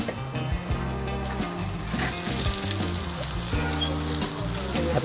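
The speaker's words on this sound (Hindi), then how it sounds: "अपने कॉर्नस गर्म हो रहे हैं" Corn kernels sizzle and fry in a hot pan at a street food stall in Jalandhar, a continuous crackling hiss with faint stall clatter in the background.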